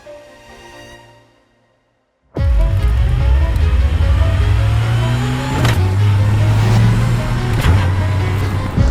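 An Ariel Atom 4R, a 400-horsepower rear-wheel-drive open sports car set to boost mode 1, roars away on a mountain road after a brief idle. The loud engine revs and climbs steadily through the gears, close and continuous with no talk.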